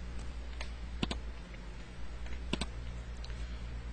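Computer keyboard keys pressed in a few sharp clicks, including quick double taps, heard close against a steady low hum while working in Flash animation software.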